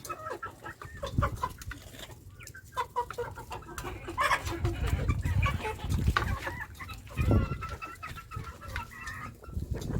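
Several chickens cluck and murmur close by in a steady, busy stream, with occasional louder squawks over soft background rustling.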